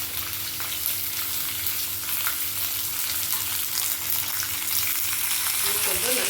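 Finely chopped onions with green chillies and curry leaves sautéing in hot oil, giving a continuous close sizzle and fry hiss with faint stirring, steady and loud from start to finish.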